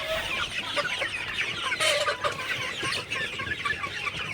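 A flock of Sonali chickens clucks steadily while drinking water, many overlapping soft calls forming a busy, continuous murmur with no talking.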